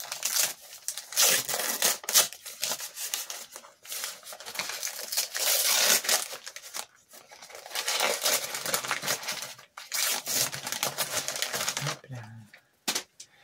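Cardboard advent calendar box being torn open by hand to free a manga volume, loud close ripping and crinkling in bursts with short pauses.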